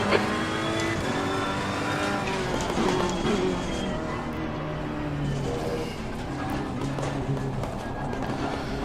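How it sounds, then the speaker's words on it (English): A GT3 race car engine in a racing video game at Laguna Seca, a loud, steady roar with shifting pitch, heard alongside further engine noise. "Faster car is approaching."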